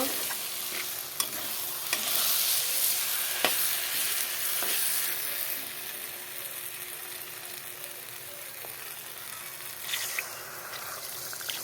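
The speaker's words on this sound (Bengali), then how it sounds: "কষানো হয়ে গেল এখন জল দিয়ে দেব" Hot water goes into a sizzling egg curry masala. A steady frying hiss runs under frequent stirring scrapes, and a few sharp clinks and a brief surge of bubbling are heard near the start and end. No one speaks.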